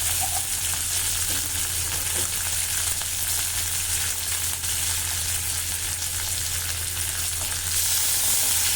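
Onions, green chillies and curry leaves fry in hot oil with a steady, dense sizzle that runs unbroken throughout, close and fairly loud, with a low steady hum underneath.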